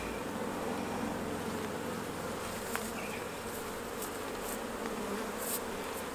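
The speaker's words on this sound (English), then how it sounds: "an awful lot of bees." A dense, continuous buzzing drone of many honey bees fills the air during a honey harvest, steady and close, with no voices.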